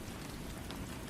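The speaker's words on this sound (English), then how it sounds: "The rain continued to fall" Rain falling steadily as a dense, even hiss of drops on surfaces, with no gaps and no voices.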